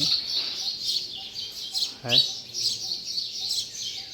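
Small birds chirping around little birdhouses in a forest while feeding their young, repeated bright high tweets close by, with one sharper call midway.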